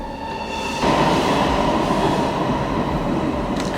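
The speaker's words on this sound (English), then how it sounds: "Got my windows open, so yes, the train is going to sound extra loud." A train rumbles loudly past outside an open window, a steady roar of rail noise swelling after the first second and continuing throughout with faint clatter.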